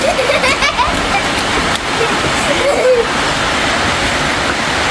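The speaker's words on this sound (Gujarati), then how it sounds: "વરસાદ મસ્તીનો આવે" Steady heavy rain pours down in a dense, continuous hiss, with voices faintly underneath.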